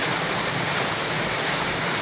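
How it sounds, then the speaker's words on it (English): A loud waterfall roars in a steady, broadband rush of falling water, close and constant throughout with no other sounds standing out. "if you can hear me over this waterfall, then it's pretty decent"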